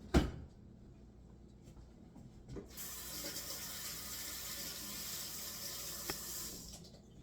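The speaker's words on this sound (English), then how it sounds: "Just make sure it's rinsed off thoroughly." A kitchen tap runs steadily as a tablespoon is rinsed under it, a close hissing stream of water starting after a clunk and a few faint knocks, continuing to the end.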